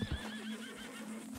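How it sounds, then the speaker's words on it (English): A horse neighs and whinnies in Red Dead Redemption 2, a short loud call at the start followed by a sustained whinny tone that carries through most of the moment, with no talk. "Over there is the horse."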